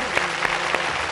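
Studio audience applauding on a Telugu television game show, a steady burst of clapping from a crowd that holds evenly for about a second with no talk over it.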